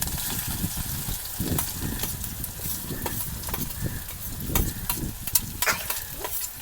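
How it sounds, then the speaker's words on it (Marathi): Finely chopped green chilies and onion sauté in hot oil over a lit fire, a steady close sizzle broken by repeated scraping and stirring strokes, with no talk. "हे मस्तपैकी परतवून घेऊ"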